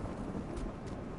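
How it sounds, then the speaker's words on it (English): Stormy weather in the video game Ghost of Tsushima rumbles low and steady with rain and wind, a dull, moderately loud wash with no speech. "Yeah, thunderstorms are no good."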